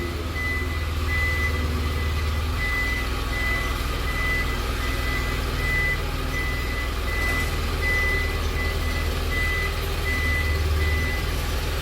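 A six-wheel truck reversing into a garage, its engine rumbling steadily up close while a reversing beeper chirps at an even, regular pace throughout.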